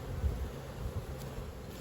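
Honeybees buzzing around a strong double ten-frame hive during spring management, a low, continuous drone, fairly quiet and unbroken, with no voices.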